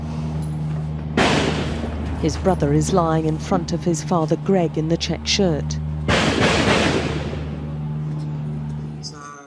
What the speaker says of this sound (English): Wes said the shooting and mortar firing was constant.